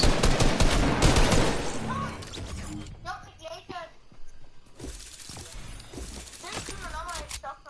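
Pump shotgun and other gunfire in Fortnite, with dense loud shots and debris in the opening seconds, then sparser bursts, as a player talks over the later part.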